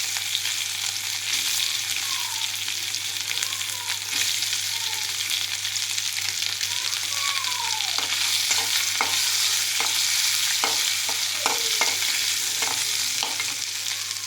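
Potatoes frying in a pan with turmeric about to be added: a steady, close, broadband sizzle of hot oil throughout, with scattered scraping stirs and small pops, no talking.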